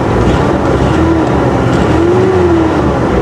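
The engine of a 2013 Ford B2500 with a 2.5 liter 4-cylinder idles loud and close with a misfire, giving a rough, uneven rumble and a faint wavering tone, with no talking over it.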